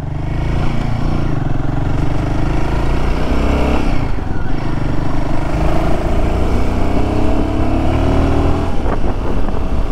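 Xpulse Rally and Himalayan 450 motorcycles riding at dawn, a loud, steady engine drone with wind rush and occasional clattering shifts in pitch, recorded up close and continuous for ten seconds without talk.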